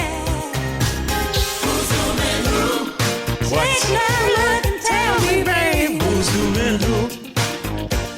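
Soul music plays loud and continuous, with a full band, a steady beat and a sung melody carrying through the whole stretch, and no talk over it.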